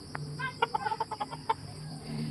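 Chickens clucking in a short, irregular series of bursts at close range while being fed in a muddy rural yard, with a low background hum and no talking.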